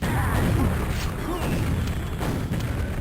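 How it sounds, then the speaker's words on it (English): Rocket explosions in Quake on the dm3 map, several blasts bursting against a wall in quick succession, loud and booming over a steady rumble of game noise. "4 rockets wasted pretty much, firing at nothing. Or into the wall where it wasn't really worth firing at."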